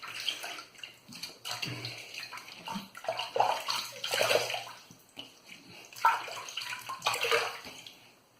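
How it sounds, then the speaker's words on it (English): Tap water runs into a bathroom sink in uneven bursts as a face is rinsed with splashing hands after shaving, close and moderately loud with no talk. "let me rinse off the face, go for a second pass."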